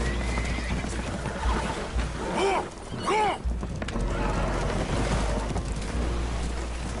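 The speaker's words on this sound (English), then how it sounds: "Horses are spooked, and we're taking on water." Spooked horses aboard a boat that is taking on water let out two loud whinnies in quick succession midway through, over a constant wash of rushing water and churning noise.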